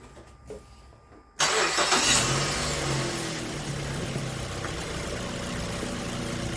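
A Mazda 3 engine cranks and catches with a sudden loud start, then settles into a steady idle that carries on alone for several seconds after a quiet pause.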